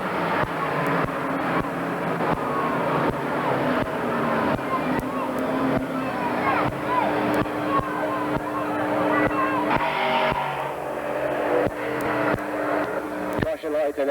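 Race cars circle a speedway under a caution period, engines droning and rising as they pass at moderate distance, while an announcer talks over the noise throughout.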